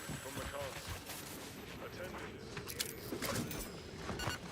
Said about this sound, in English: I can't believe how much damage this gun does.